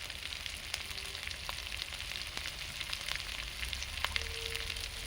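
Spice paste of ground cashew and turmeric frying in a pan, a steady quiet crackle and sizzle throughout, with faint scattered pops and no talking.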